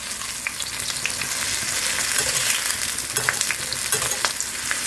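Food frying in a large amount of oil in a pan, a dense, loud, continuous sizzle with crackling pops and occasional stirring scrapes, with no voices.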